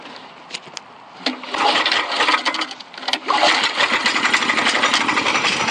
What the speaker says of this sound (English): The engine's starting.